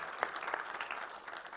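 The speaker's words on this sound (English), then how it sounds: "A round of applause for you" Faint, brief applause from an audience at an open conference session, scattered claps forming a thin, steady patter heard from a distance.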